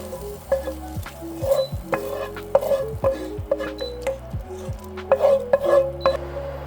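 Onion and veal sizzle loudly in a pan with a splash of meat broth, stirred with repeated scraping and clinks of a utensil against the pan, close and continuous.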